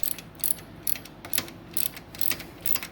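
A ratchet wrench clicks in quick, repeated bursts while a bicycle derailleur mounting bolt is tightened, crisp metallic ticks up close with short pauses between strokes.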